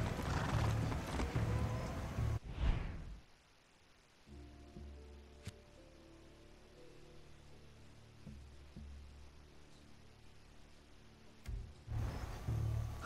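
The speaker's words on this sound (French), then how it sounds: "C'est bien, bon cheval." A horse in the video game Far Cry 6 clip-clops briefly at the start, then a soft low hum and faint sparse ticks carry the middle before hoofbeats and a whinny return near the end.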